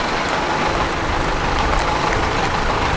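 A truck engine drones steadily on a road journey to Launceston, a continuous low rumble with road noise filling the cabin, constant in loudness and with no voices.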